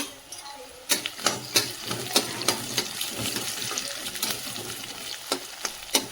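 Garlic frying in oil in a kadai for a bitter gourd dish, crackling and sputtering close up, with a run of sharp utensil clacks against the pan over a continuous sizzle.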